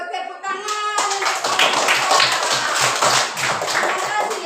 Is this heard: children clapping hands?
yes